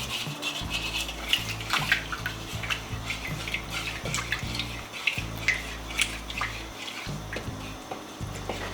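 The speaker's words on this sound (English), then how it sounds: "So you want to make sure you mix everything up until it gets fully dissolved or fully melted." Sugar and a pinch of salt being stirred in a bowl until dissolved for Cameroonian puff puff dough, a steady run of close scraping and clinking with watery swishing throughout, no talking.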